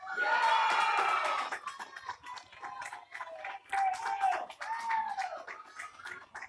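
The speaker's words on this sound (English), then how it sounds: "Crowd is going crazy here." Crowd at a girls' 18U softball game cheering and screaming, high excited voices swelling loudly at first, then rising and falling in bursts over the next several seconds.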